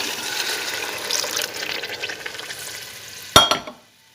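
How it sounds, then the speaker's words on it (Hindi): A pan of vegetable pulao sizzles steadily as it fries, then spiced water is poured in with a sharp splashing burst that quickly dies away to quiet. "अब मैं इसमें डालूँगी जो मैंने मसालों का पानी निकाला था, अरक निकाला था, वो मैं अब इसमें डाल दूँगी।"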